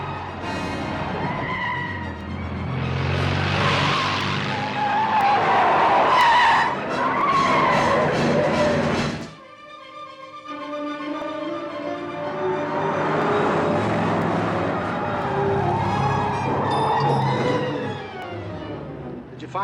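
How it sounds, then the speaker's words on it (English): A station wagon skids while turning, with long loud tire squeals and engine noise in two sustained passes separated by a short lull. "Comes the station wagon now."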